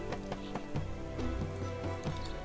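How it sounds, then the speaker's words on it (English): Rain in the video game Northgard, a steady patter of drops with scattered louder taps over a faint tonal background, gentle and quiet with no voices. "Now we've got a nice little rain effect."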